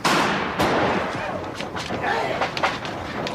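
Gunshots fired at a herd of bison in a film, a loud blast followed by several sharper cracks amid a busy, noisy soundtrack.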